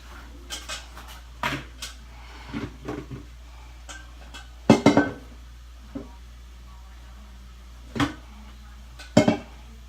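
A pan being set down and shifted on a skillet in a home kitchen, with scattered sharp metallic clanks and knocks, a few louder clusters of clatter between quieter handling taps, close by.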